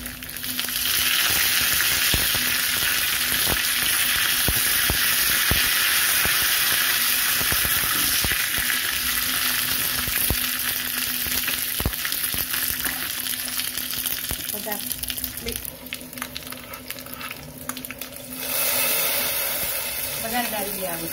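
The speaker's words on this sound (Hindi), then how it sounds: "अब इसमें मिर्ची डाल के करी पत्ता डाल देंगे।" Green chillies and curry leaves dropped into hot oil over browned moong and ridge gourd curry base, giving a steady loud broadband sizzle throughout with stirring scrapes, alone without talk.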